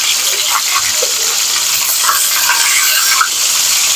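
Rohu fish fry in a pan, a steady sizzling hiss with soft bubbling crackles running close and unbroken throughout, no voices.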